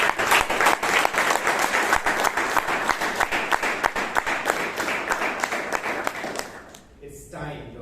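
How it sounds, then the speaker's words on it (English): Audience at a Toastmasters club meeting in Bangalore breaking into steady, sustained applause with audible individual claps, fading out near the end as a voice begins speaking. "Let's hear a big round of applause."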